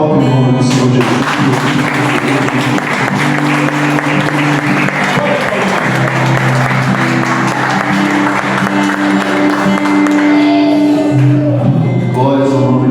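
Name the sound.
congregation applauding in church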